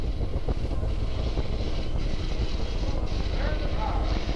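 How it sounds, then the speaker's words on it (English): Saturn IB rocket engines at the Apollo 7 liftoff give a loud, continuous, rumbling roar that holds steady throughout, with voices faintly talking over it. "7, 6, 5, 4, 3, 2, we have ignition. Commit liftoff,"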